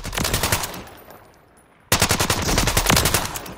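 A Malyuk assault rifle fires in Warzone on Rebirth Island: a burst of rapid automatic shots, a brief pause, then a longer sustained string of loud, evenly spaced reports.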